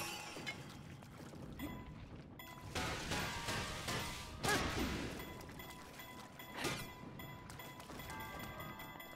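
A hammer smashes in the game Zelda: Breath of the Wild, heard as a few loud crashing impacts with shattering and whooshing debris over background game ambience, with no talking.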